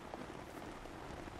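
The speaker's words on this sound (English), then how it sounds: "It is raining." Rain falls in TheHunter: Call of the Wild, a soft, steady patter of drops on the ground, faint and continuous with no voices.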